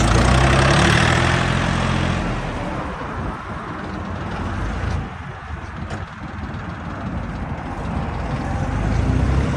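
A heavy tractor engine idles with a low, steady rumble, louder at first and then settling to a constant chugging drone.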